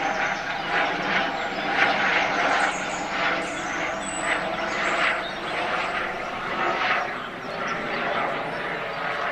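A steady, broad mechanical drone with rhythmic thudding, like a helicopter passing overhead at moderate distance, continuing throughout with no clear voices.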